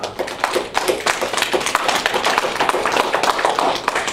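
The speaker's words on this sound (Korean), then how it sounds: "우리 손을 모아서 하나님께 감사의 영광의 박수를 올려드리겠습니다" Korean church congregation at a Sunday communion service clapping in praise, a loud dense burst of hand claps that keeps up steadily throughout, close and without talk.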